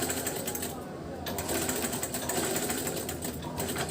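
A sewing machine stitches a double katori blouse, a continuous close, fast needle hum throughout, with someone speaking over it.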